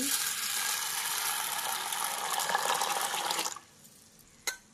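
Water poured into a bowl of sago pearls to soak them, a close steady splashing pour lasting a few seconds before stopping abruptly, followed by a quiet pause and a single knock.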